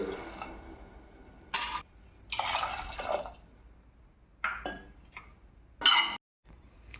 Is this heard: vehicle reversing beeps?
no